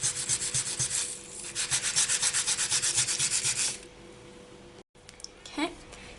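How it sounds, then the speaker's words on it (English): Polymer clay earrings having their edges sanded, a rapid rhythmic rubbing scratch that runs steadily for a few seconds before stopping, followed by quiet handling noise. "You just sand up the edges"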